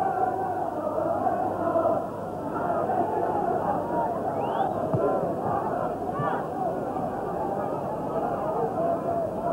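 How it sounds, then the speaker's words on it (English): Large football stadium crowd in Edinburgh at a Hibs versus Dundee match in 1984, a steady distant roar and murmur of many spectators that continues under a commentator's voice. "Very good crowd in now."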